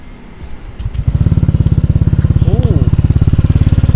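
Honda Vario scooter with a modified exhaust starts up and idles in a steady, close, even putter that stays loud and regular after a brief lead-in of handling noise.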